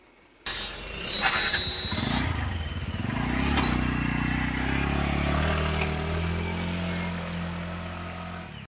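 A TVS Ntorq scooter engine starts up and is ridden on a test run after repair, its motor droning steadily and rising as it accelerates, close and loud throughout.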